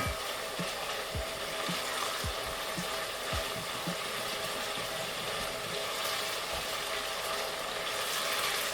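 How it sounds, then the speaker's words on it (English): Food cooking in a pan during a family dinner, stirred steadily, with a constant sizzling hiss underneath and soft repeated scraping strokes of the utensil at an uneven rhythm, fairly quiet throughout. "Just need to keep stirring"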